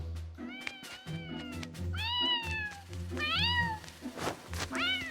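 A cat meows several times, close and clear, its cries rising and falling over a low steady hum, in a children's animated series.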